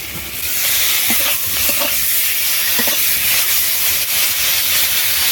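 Lightly fried fish roe tipped into a hot pan with turmeric and ginger, giving a loud, steady hiss of sizzling oil close up that holds evenly throughout, with faint stirring scrapes.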